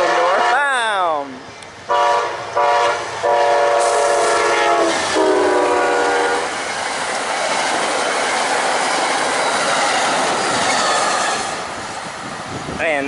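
A train horn blasts several times up close, then a heavy northbound train rumbles steadily past with rushing, rattling wheel noise continuing to the end.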